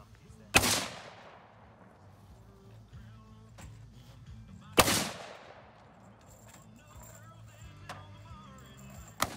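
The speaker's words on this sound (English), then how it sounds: "It's amazing the fucking muzzle blast off these things." Two sharp, loud gun muzzle blasts crack a few seconds apart, each one followed by a fading echo, with quieter handling noise and faint sounds in between.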